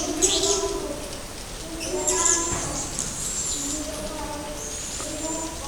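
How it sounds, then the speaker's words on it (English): Birds calling inside Turtle Cave in Chuuk, echoing cooing and chirping notes repeating at intervals, with people talking over them. "Oh, that's bird."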